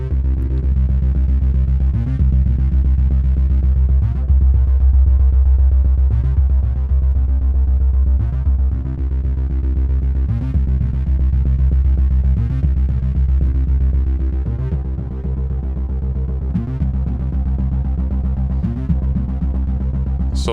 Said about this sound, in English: So there's quite a pronounced change that's hard to describe when you change self-oscillate at really high drive.